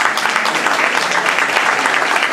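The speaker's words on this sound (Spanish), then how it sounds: "para quien pide un fuerte aplauso también" A club crowd at a rock night applauds Elisa Romero, organiser of the Bases Negras events, the clapping loud, dense and sustained with no voices over it.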